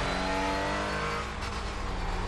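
A race car engine in the iRacing sim drones steadily and loudly at high revs, holding a dense, even roar with little change in pitch for the whole stretch, with no voices over it.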